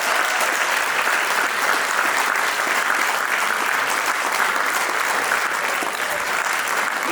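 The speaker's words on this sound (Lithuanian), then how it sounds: "dar kartą audringi aplodismentai" A concert hall audience breaks into sustained, dense applause for a children's choir at its 30th anniversary concert, loud and even throughout with no talking over it.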